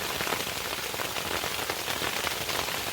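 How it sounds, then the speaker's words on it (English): Hail pelts the fabric of a Sierra Designs Clip Flashlight 2 backpacking tent, a dense, steady patter of close impacts with no pauses and no voices. "I don't think I've been in a hailstorm in a tent for years."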